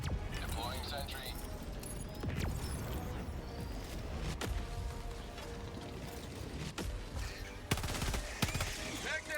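Sentry turret firing in the video game Helldivers 2 on Helldiver difficulty 9, dense rapid gunfire bursts mixed with explosions and crashes across the whole stretch, loud and continuous with sharp impacts.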